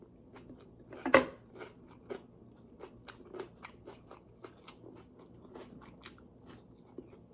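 Crunchy chewing and biting of smoked milkfish (tinapang bangus) eaten with tomato and rice, a series of close, crisp bites and crackles with one loud crunch near the start, repeating irregularly without speech.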